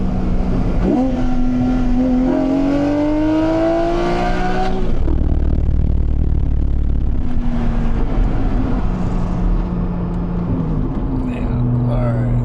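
A Porsche 718 GT4 engine pulls hard, with rising harmonic engine tones through the first half, then a shift and a second climb. It is loud and close, with a voice talking over parts of it.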